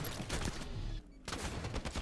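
Magnum pistol shots in Halo 5, part of a dense stretch of game gunfire with a brief gap midway, moderately loud and with no talk.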